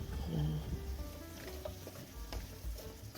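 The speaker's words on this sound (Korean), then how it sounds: "이제 그린빈 넣어줄게요" Green beans go into a hot pan, likely with a little honey, and sizzle quietly under a few soft stirring scrapes and clicks.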